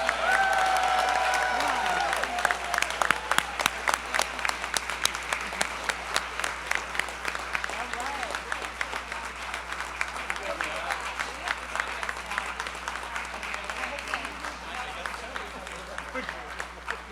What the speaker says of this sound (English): give one more round of applause for the class of 2025